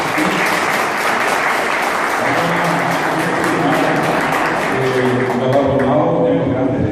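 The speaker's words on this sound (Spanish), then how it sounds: "Vamos a dar un fuerte aplauso a él." Audience applause at a tribute ceremony honoring Francisco Russo, a popular Paraguayan figure, a dense, steady wash of clapping from many hands lasting throughout, with some voices mixed in toward the end.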